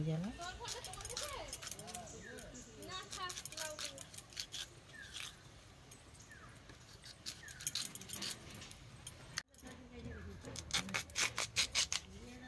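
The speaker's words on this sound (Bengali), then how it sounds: "দিয়ে আমি এইভাবে বড় বড় করে কেটে নেব আলুগুলোকে।" New potatoes are cut into large pieces on a boti, a floor-mounted Bengali curved blade, in a village kitchen. Scraping, rubbing and sharp cutting clicks come from close by, sparse at first and thicker near the end, under someone speaking throughout.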